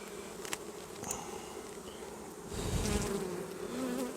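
Honeybees buzzing at an open beehive during a late-July hive inspection, a dense continuous hum close by with individual bees flying near, swelling louder toward the end, with no talk.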